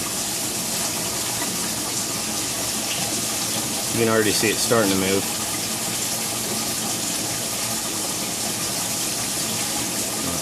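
Water runs steadily through a self-cleaning aquaponic fish rack filter as its level rises, a constant loud wash throughout, with a person talking briefly over it in the middle.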